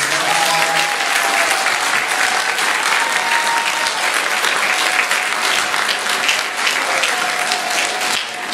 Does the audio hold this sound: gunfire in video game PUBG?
no